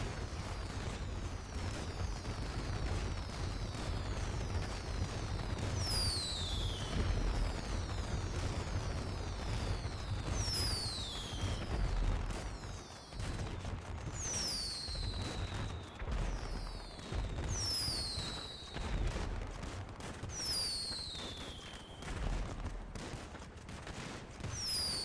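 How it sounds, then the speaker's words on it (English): Gunfire on the Gener8 RP roleplay game server rings out in rapid fusillades and scattered single shots with whistling, descending ricochet-like tones, over a constant loud rumbling background with no talking. "Ah, the lovely sound of gunfire."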